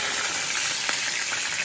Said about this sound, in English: So after about 6 minutes of frying